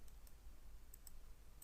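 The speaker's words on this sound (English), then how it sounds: "and typing my phone number" A computer keyboard being typed on, quick faint key clicks in small clusters against a quiet background, with no talking.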